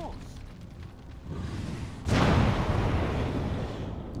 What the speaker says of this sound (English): is this going to be a big enough explosion?